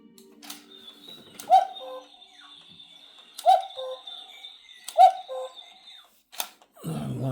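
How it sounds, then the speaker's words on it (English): A Rokr cuckoo clock, a built wooden model kit, sounds its cuckoo call three times, evenly spaced about two seconds apart, each a clear two-tone hoot with sharp mechanical clicks between, ending with a thud. "every hour he'll come out and cuckoo"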